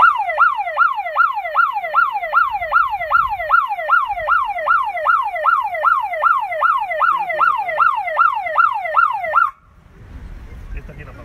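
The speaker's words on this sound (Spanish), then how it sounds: "activa la sirena nada más para probar, a ver cómo suena" A newly installed public security alarm siren sounds in a test, a loud, fast rising wail repeating in rapid even cycles for about nine seconds before cutting off abruptly into quiet outdoor rumble.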